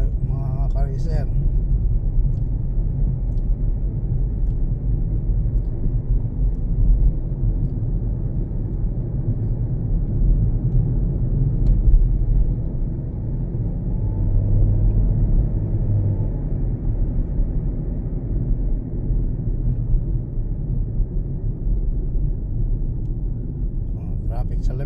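Steady low road rumble of traffic carries through from inside a moving vehicle on C5 Road in Manila near the Terminal 3 drop-off, a dense continuous drone with brief swells of passing cars.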